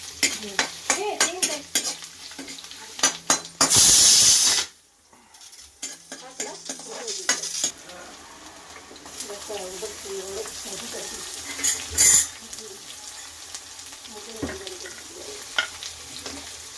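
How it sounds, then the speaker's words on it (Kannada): Mustard seeds popping and sizzling in hot oil for a tempering, with quick crackles and stirring clatter against the pan, a brief loud burst of frying, and someone talking at times. "ಚಟಾಪಟ ಅಂತಿದೆ. ಸಾಸಿವೆ"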